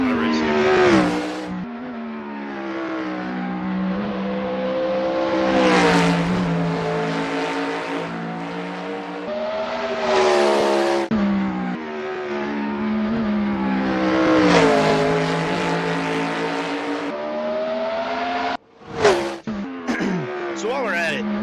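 A Dallara F3 race car engine in the Assetto Corsa sim racing game revs and shifts repeatedly, rising and falling in pitch through several gears with a brief gap near the end, under someone talking.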